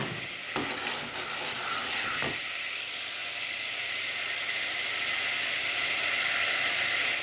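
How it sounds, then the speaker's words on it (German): Red wine sauce being stirred in a saucepan for a rump steak reduction, a steady close sizzling bubble with a spoon scraping the pan, continuous and fairly loud. "weil man die Soße in dieser schmalen Pfanne ja so schlecht rühren kann."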